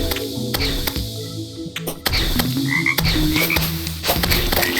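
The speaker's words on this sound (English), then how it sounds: "It's a vanity accessory that changes our character heart sound. I use it along with my frog chime." Croaking frog sound effect from the Terraria frog chime vanity accessory, replacing the character's hurt sound, repeating in quick bursts over steady in-game music.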